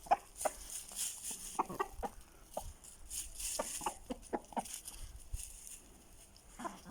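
Chickens cluck in a coop, a run of short, irregular calls from several birds at close range over a faint background rustle, with no talk.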